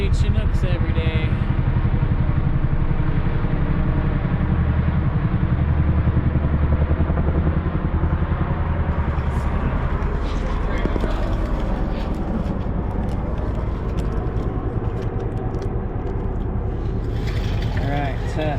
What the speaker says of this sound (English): You don't see Chinooks every day.